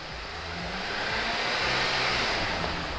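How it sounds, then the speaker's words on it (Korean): A Samsung SM5 New Impression SE engine revs up toward 4000 RPM, a steady, loud mechanical roar that swells slightly and holds, heard close with no talking. "RPM을 한번 올려볼게요. 4천까지 올려봤는데요."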